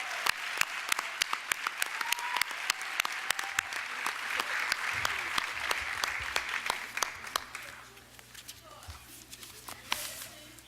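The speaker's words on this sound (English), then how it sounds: "Give her a round of applause." Audience applause for a parent recognition award recipient at a school board meeting, scattered sharp claps building into a sustained round in a room, thinning out toward the end with a few lingering claps.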